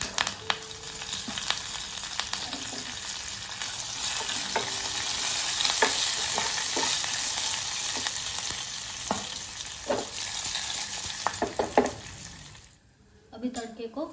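Curry leaves hit hot tempering oil with fenugreek and fennel for Odia kanji, giving a loud, steady sizzle and crackle with occasional stirring clinks before the frying noise drops away at the end.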